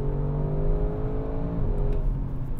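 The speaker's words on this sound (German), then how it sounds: "du machst dann diese kurzen Gaswechsel bei hohen Drehzahlen" An Audi RS6 Avant engine held at high revs in third gear in manual mode, with short throttle blips and gear changes. It is a loud, steady, close roar with a harmonic whine, and no voices are heard.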